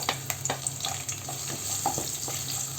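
Garlic and chopped ginger fry in a hot pan for chilli chicken, a continuous close sizzle punctuated by quick scraping stirs, with no voices.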